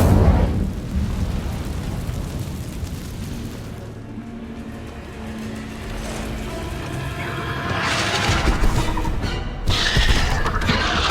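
Incendio fire spell cast in Hogwarts Legacy, giving a loud burst of roaring, crackling flame that eases off and then flares again with rumbling, mechanical clatter.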